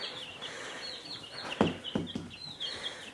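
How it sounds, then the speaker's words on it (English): Backyard chickens cluck softly in a few close, short bursts over a quiet, steady ambient hum. "I usually take care of the chickens."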